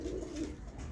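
Black pigeons kept by a pigeon fancier coo in a low, steady murmur that continues without a break, close by and moderately loud.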